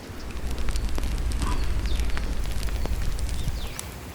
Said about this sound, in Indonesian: Lalu kayu ditata agar apinya makin membesar.